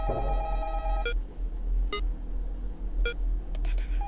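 An in-game telephone in the horror game Five Nights at Candy's 2 rings in short electronic bursts, a few sharp tones spaced about a second apart over a low steady hum, loud and alone.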